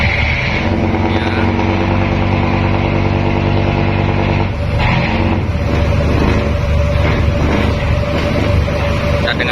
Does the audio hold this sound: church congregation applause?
no